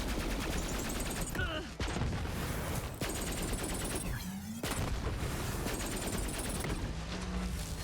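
Rapid gunfire from the Grease Trap weapon in Borderlands 3 crackles in dense bursts, with a short pause and a reload-like gap between volleys, loud over game ambience and music.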